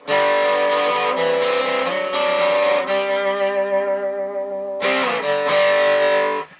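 An electric guitar played passively, an Aria Pro II CT Series, plays sustained chords with a mildly gritty, lightly overdriven amp tone, ringing out between strums with no one talking.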